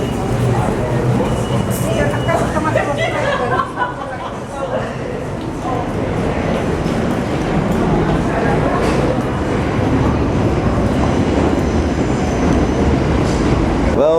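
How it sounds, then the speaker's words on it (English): A New York City subway D train station, with a loud, steady rumble and roar of rail noise throughout, and people talking over it. "So we're going down here to the D train."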